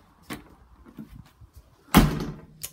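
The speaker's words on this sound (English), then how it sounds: "our door locks by itself," A door swings shut and its lock clicks into place on its own, a soft knock followed by a loud, close thud with a brief rattle, all in a quiet room early in the morning.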